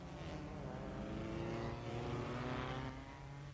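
Lancia Ferrari V8 race cars run flat out at the 1957 German Grand Prix on the Nordschleife, a steady distant engine drone that swells and fades briefly as they pass.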